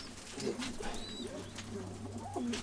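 Pigeons coo in low, repeated rolling phrases during a busy breeding season, with several overlapping calls near and far over a steady background hum, and no speech.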